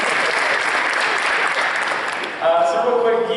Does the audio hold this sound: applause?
yes